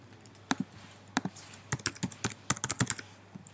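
Keys on a computer keyboard tapped out a password in uneven bursts of crisp, close clicks, with a few short pauses between groups of keystrokes and no talking.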